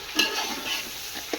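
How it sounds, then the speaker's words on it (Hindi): Garlic, ginger, green chilli and tomato frying and being stirred in a pan, with a soft steady sizzle and a couple of brief scraping stir sounds, close and alone without talk. "इनको अच्छी तरह से हम भूनेंगे"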